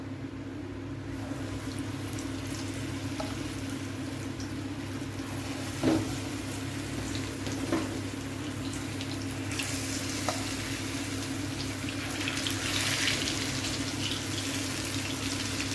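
Cauliflower fritters fry in hot oil with a steady, soft sizzle and bubbling throughout, joined by a few light clinks and stirring sounds near the end; no one speaks.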